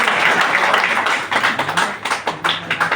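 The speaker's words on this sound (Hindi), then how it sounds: "तो इसके लिए आपके लिए भी एक जोरदार तालियां।" An audience at a DXN business seminar gives a round of applause: a thick wash of clapping that thins toward the end into scattered individual claps, close and steady.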